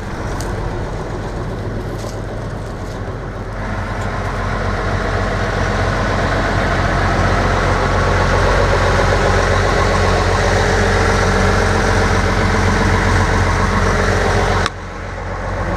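A combine harvester engine, replaced over the winter, runs steadily during a rapeseed harvest, a loud continuous mechanical drone that holds even throughout before dropping off abruptly near the end.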